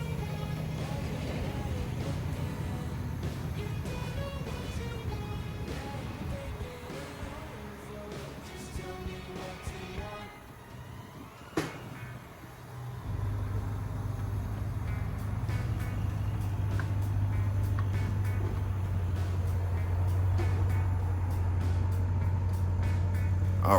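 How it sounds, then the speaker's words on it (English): A 2022 Nissan Altima idling and rolling off an aluminum-ramped trailer behind a High Roof 2500 ProMaster, a steady low engine hum with a brief knock midway, then a louder droning tone as it drives off. "we're coming off with the regular 22 Nissan Altima"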